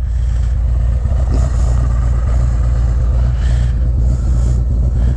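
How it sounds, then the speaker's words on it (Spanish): Harley-Davidson motorcycle engine running, a loud, continuous low rumble that holds steady throughout without clear revving or gear changes. "vamos a dar una vueltica a la moto para que vean esa belleza"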